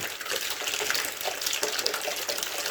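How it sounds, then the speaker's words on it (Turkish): Black water gushes steadily from an opened valve on a central-heating radiator, a dense hissing splash without pause throughout. "Aha şu an siyah su geldi."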